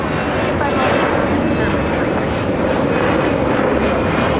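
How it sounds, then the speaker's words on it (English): A Boeing 777 passes overhead at LAX with a steady, loud, broadband engine roar that holds for the whole stretch without fading. "Have a 777 flying above us here, heading to the south side."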